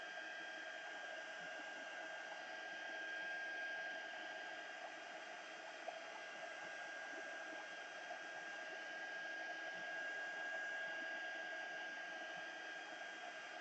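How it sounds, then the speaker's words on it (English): A handheld heat tool blows steadily over a hot glue embossed card, a constant airy whirring hum held evenly throughout, close and moderately quiet with no talk. "I'm going to lightly dry this with my heat tool for the sake of film"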